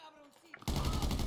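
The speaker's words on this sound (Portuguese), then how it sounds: "Nossa, olha o tiro pegando aqui." Gunfire from GTA V during a police tactical assault in an abandoned hotel: after a brief quiet moment, a loud, dense burst of rapid shots breaks out and keeps going.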